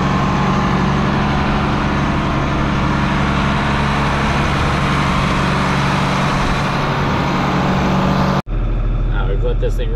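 A John Deere 4440 tractor engine idles steadily while warming up, a loud continuous low rumble running for most of the stretch before cutting off abruptly near the end into quieter background.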